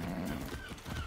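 Horse in the video game Far Cry 6, a steady run of hoofbeats and equine sounds with a brief whinny, close and continuous, with faint talk underneath.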